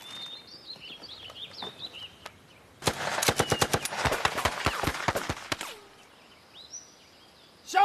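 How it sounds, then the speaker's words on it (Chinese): A machine gun fires in a war drama scene, a rapid burst of sharp loud shots lasting about three seconds, framed by bird chirps before and after in an outdoor setting. "机枪，给我突突。"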